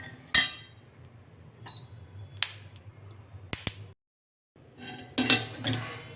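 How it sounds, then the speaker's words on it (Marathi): Roasted peanuts are scooped out of a pan with metal utensils, giving a few sharp clinks and scrapes with quiet gaps between them, close and fairly clear, with no talking. "आता भाजलेले शेंगदाणे काढून घेऊ"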